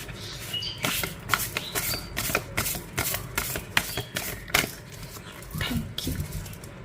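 A deck of tarot cards is shuffled up close in a rapid, riffling flutter of papery slaps that carries on steadily, with faint voice in the background.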